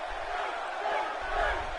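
Crowd noise from an arena audience in the wrestling game WWE 2K18, a steady broad roar of cheering that swells slightly toward the end, with a commentary voice underneath.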